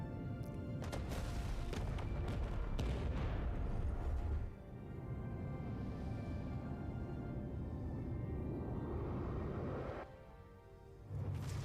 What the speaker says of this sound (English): Three torpedoes away.